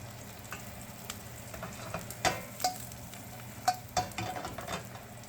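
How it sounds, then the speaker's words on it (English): Asparagus sizzling as it fries in butter in a pan, with a steady close frying hiss and several sharp scraping knocks of stirring scattered through. "And now we're going to add our asparagus. We'll stir that up."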